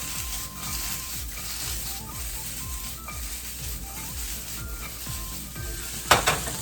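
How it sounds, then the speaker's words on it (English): Fresh garlic hits green beans sautéing in a hot pan, a steady close sizzle with repeated scraping stirs and tosses, ending in a brief sharp clatter of the pan. "We're gonna add our fresh garlic to it. Get that in there and give it a toss."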